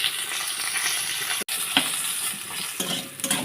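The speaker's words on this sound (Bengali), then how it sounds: "আলুগুলো আরেকবার ভালোভাবে ভেজে নেব লাল করে" Potatoes frying in oil in a pan, a bright, continuous hiss and crackle with brief stirring scrapes, close and fairly loud, one momentary dropout, no speech.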